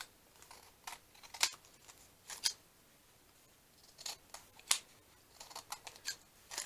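Scissors snip paper several times while trimming a junk journal pocket envelope, producing close, crisp cuts in irregular pairs and short runs against a quiet room.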